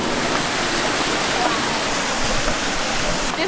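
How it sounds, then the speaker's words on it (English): Water rushes steadily over an old mill wheel that grinds corn, a loud, continuous broadband roar that holds without a break from start to finish. "This water is spinning the wheel, which is grinding the corn."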